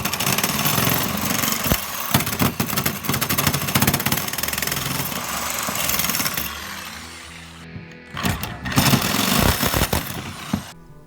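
A reciprocating saw cuts near a metal electrical box and snags a nail holding the box. It makes a loud, continuous rasping buzz that breaks off around the middle, followed by a couple of short, harsh bursts.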